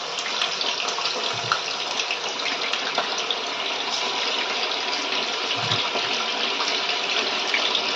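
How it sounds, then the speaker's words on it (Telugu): Marinated chicken pieces fry in hot oil, giving a steady, dense, close sizzle that holds evenly throughout without pauses, with no voices over it. "హీట్ అయ్యాక మనం ఆయిల్లో ఇట్లా వేసుకోవాలి"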